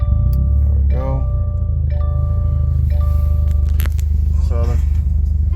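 A Subaru car engine running on ethanol fuel after starting, a loud steady low idle rumble with some whining tones and brief crackles, close by with a voice speaking over it.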